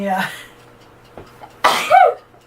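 A single sharp sneeze bursts out close by, preceded by a brief vocal sound and a small click.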